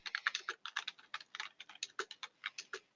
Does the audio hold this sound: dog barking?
no